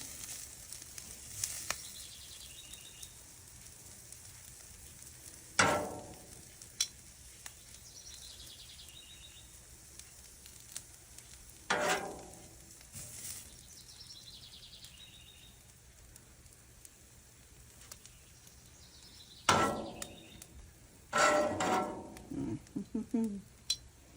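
Onions hit a hot Blackstone griddle in bursts of sizzling, several separate sharp hisses a few seconds apart that fade quickly, with quieter frying between and occasional scraping of tongs.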